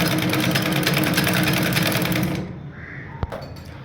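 Sewing machine running a seam at a fast, even stitching rhythm, loud and close, then stopping abruptly, followed by a brief click.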